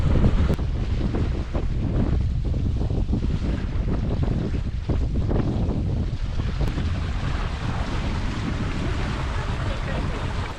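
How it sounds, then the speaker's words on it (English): A squall's wind roars over a Raven 26 sailboat, a loud, constant rushing buffet against the microphone with water and hull noise beneath, steady throughout without letup. "The squall just came."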